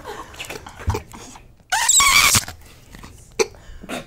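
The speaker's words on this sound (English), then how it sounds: "I just hear screeching." Screeching from an object handled close to the microphone in an ASMR setting, a sharp bright burst of about half a second amid scattered soft clicks, squelches and quieter handling noises.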